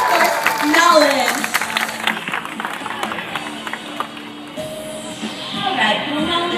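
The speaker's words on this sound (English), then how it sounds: "how about another big round of applause for both of our brave volunteers and, of course, Nolan" Audience applause at a live tiger show, scattered clapping that swells early then thins out while a voice talks over it and other show sounds come through.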